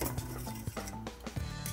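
Clattering clinks and knocks from a metal baking pan as a chocolate blackout cake is dumped out of it, several sharp hits spaced irregularly, close and moderately loud.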